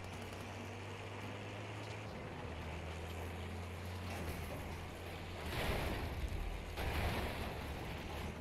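A tank driving straight into water in Battlefield 5, heard as a low engine drone under a steady wash of water that surges into two louder splashing rushes near the end.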